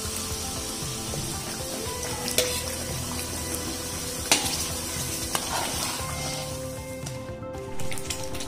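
Onion paste fries in oil with Kashmiri red chili powder in a large batch for bulk cooking, giving a continuous sizzle with occasional sharp stirring scrapes and clinks of the spoon against the pot.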